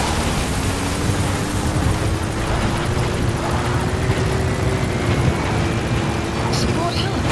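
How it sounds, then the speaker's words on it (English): The support helicopter in Metal Gear Solid 5 drones steadily with a continuous rotor and engine roar that fills the whole stretch, loud and unbroken, as a voice speaks over it. "Support helicopter extraction arrived at Mother Base."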